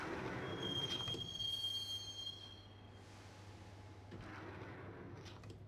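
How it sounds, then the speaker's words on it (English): Inside a subway train in the video game Max Payne, the carriage rides along with a steady low rumble, a thin high wheel squeal early on and rising rail noise later, with no talking. "the train doors had already shut behind me, and I was in for the ride"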